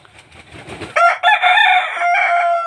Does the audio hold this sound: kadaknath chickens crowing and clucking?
yes